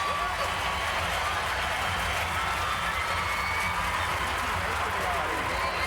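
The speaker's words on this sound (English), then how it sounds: "And the crowd is going absolutely nuts. They are all on their feet here in Anaheim." A packed arena crowd at the 2003 World Gymnastics Championships apparatus finals in Anaheim cheers and applauds loudly and steadily, a dense continuous roar of clapping and shouting with no break.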